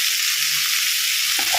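Cut ivy gourd (dondakaya) pieces fry loudly in a hot pan, a dense steady sizzle with a couple of soft clunks near the end and no talking.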